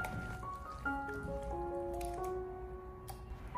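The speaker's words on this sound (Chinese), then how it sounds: "用手给它持续的搓拌一分多钟，将所有调味料充分的吸收到猪肝里面" Bare hands knead sliced pork liver with seasonings and a little starch in a bowl, producing soft, wet squishing and dripping sounds that continue throughout, with steady tonal background music underneath.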